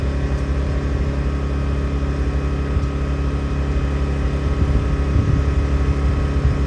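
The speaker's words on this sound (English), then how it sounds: "So right here he went to wide open throttle, and he bumped really quick." A twin-turbo tow truck engine roars at wide open throttle on a drag run, a loud steady low rumble with a brief surge near the end, no voices.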